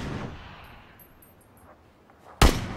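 Gunfire in a shooter video game as an enemy is shot. One loud, sharp shot comes near the end, following faint ambient game sounds and a softer thud at the start.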